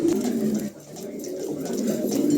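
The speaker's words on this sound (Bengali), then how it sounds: "খুবই চমৎকার এক জোড়া কবুতর" A pair of pet pigeons coos steadily and close by, a soft, continuous throaty murmur that runs through the whole stretch without speech.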